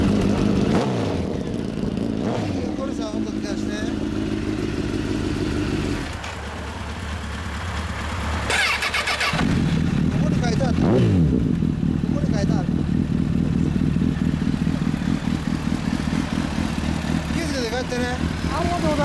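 A 2005 Honda CBR1000RR SC57 with a Moto Bum Corsa exhaust rumbles nearby, idling with a rough throb before sharp revs rise and fall, then settles into a steady run while people talk over it.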